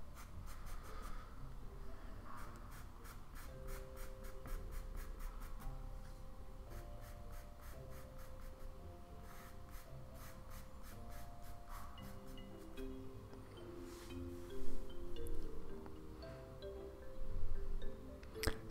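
Pastel pencils scratch and rub across 300 GSM watercolor paper during a puppy drawing, quiet close strokes in quick repeated bursts with short pauses, some louder scribbles near the end.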